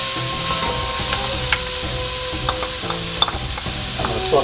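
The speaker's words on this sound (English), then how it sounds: "I'm going to saute onion first." Chopped onion sautéing in butter in a pan for harira soup, a steady close sizzle with scraping stirs and small utensil clinks throughout.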